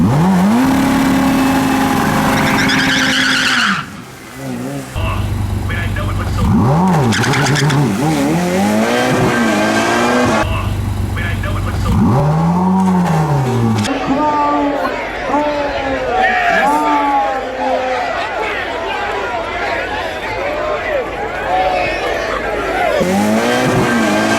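A stock Ferrari F8 Tributo launches hard on a drag strip, the front wheels lifting, with a loud engine that rises and drops through rapid gear changes and shifting pitch. Voices talk over the engine noise.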